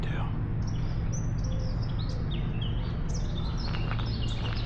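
Birds sing and chirp in a small city park in La Spezia, Italy: repeated high, thin calls over a steady low rumble of distant traffic, with no voices.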